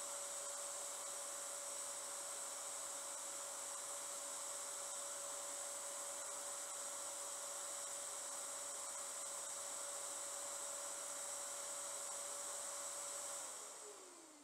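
A belt sander runs steadily with a constant high whine and broad airy hiss, close and loud, holding level for the whole stretch before winding down at the very end.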